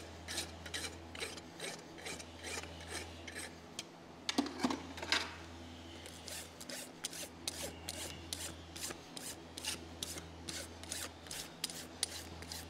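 A farrier's rasp works lightly over a horse's hoof wall during shoeing, giving a run of short, regular scraping strokes with a brief heavier burst partway through, over a steady low background hum.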